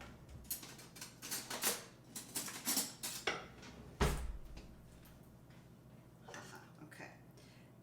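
In a home kitchen, cutlery clatters and rattles as a spoon is fetched from a drawer, with a run of close metallic clinks and a louder knock before things settle into quieter rustling.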